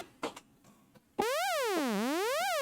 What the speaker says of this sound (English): So, sine wave.